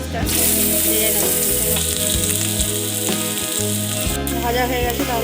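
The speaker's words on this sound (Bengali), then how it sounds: "আমি এবার পেঁয়াজটা ভেজে নেব" Onions frying in hot oil in a wok, a continuous close sizzle with brief scraping and stirring noises, no talking.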